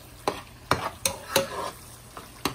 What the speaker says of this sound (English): give it a little bit stir.